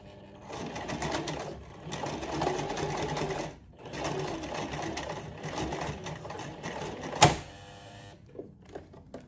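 A sewing machine stitching a zigzag on a satchel prototype runs in several loud rapid bursts separated by brief pauses, then ends with a sharp crack before it falls quiet.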